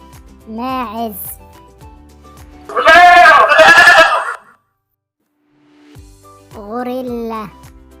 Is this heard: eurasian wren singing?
no